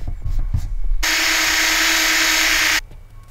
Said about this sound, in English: So now with that dried up, I'm gonna sand.